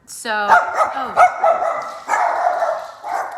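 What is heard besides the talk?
Yorkie dog barking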